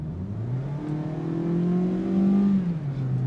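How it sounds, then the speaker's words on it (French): A car accelerates hard, its engine note climbing steadily in pitch and loudness before easing slightly near the end, heard fairly close with no voices. "elle est géniale cette accélération de cette voiture"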